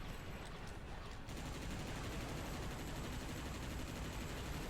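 Rapid spread-fire gunfire from a weapon in Earth Defense Force 2017, a dense continuous barrage of blasts that keeps going steadily at loud volume, with no pauses in the shooting.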